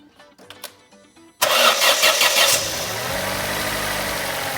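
An Opel Corsa C with a 1.2 petrol engine, prone to cold-start trouble, cranks briefly after a few faint clicks, then catches with a loud burst and settles into a steady, even idle close by.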